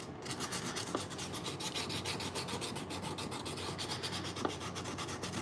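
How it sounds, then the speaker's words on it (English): A badly corroded Penn 8500ss spinning reel is rubbed by hand with sandpaper in quick, steady back-and-forth strokes, a close continuous rasping scratch with no talking. "To just hand sand some shit, you know"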